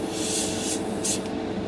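Airbrush spraying paint onto a 1/60 scale Bandai Strike Gundam model kit, a close, steady hiss with short bursts that cut in and out.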